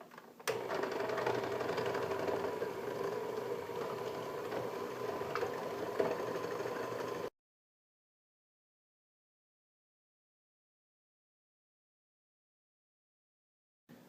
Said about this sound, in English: It's up to you if you want to use a mixer.